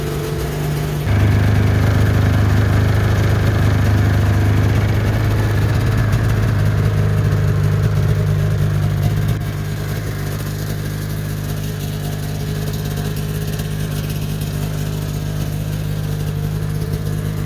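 A rebuilt 1994 Ski-Doo MX 470 snowmobile engine idles steadily at close range, a buzzy two-stroke drone that steps down slightly in pitch partway through and then holds even.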